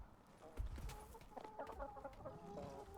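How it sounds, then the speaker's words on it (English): Chickens in a coop clucking in short, scattered bursts, several birds close by and fairly quiet, with soft shuffling and thumps between calls. "Here's a bunch more chickens."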